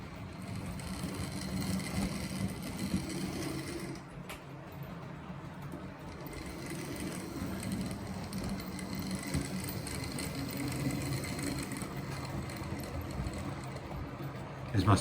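A 1974 Hornby Black 5 model locomotive runs along a layout track and over points with a steady, low electric motor hum and faint wheel rattle, quiet and continuous.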